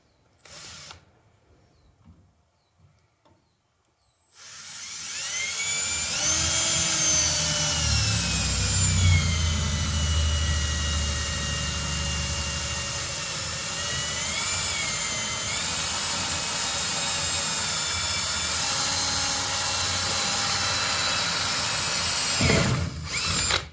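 A power drill whirs loudly and steadily for about twenty seconds while boring a small pilot hole for a diesel heater fuel pick-up tube, after a few quiet knocks and handling sounds.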